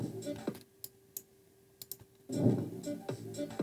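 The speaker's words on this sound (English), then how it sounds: "we can add like a typewriter sound effect. So you get the tick, tick, tick, tick, or clicking" Typewriter-style clicking added as an editing sound effect: a handful of sharp, isolated ticks spaced out over a few seconds, with a fuller burst of sound toward the end.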